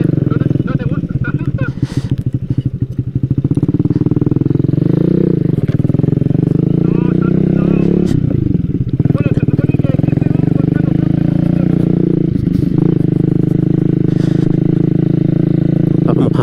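Motorcycle riding along a rough, bumpy dirt road on the route toward Puyehue, a loud close engine drone with rattling clatter and jolts over the surface, under ongoing conversation between riders.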